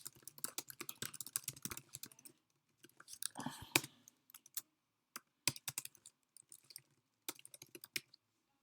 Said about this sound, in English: Then you can type in your own phrases.